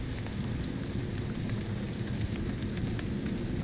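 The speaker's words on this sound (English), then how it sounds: "I guess it's raining." Rain in the video game Subnautica: Below Zero, a soft, continuous wash of rainfall with a low rumbling bed and faint scattered patter, fairly quiet and even, with no speech over it.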